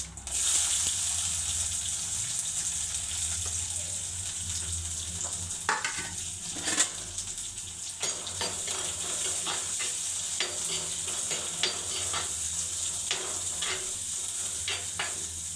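Onions, small onions, garlic and cumin sizzle steadily in sesame oil in a pan, with a constant frying hiss and occasional sharp clacks of stirring.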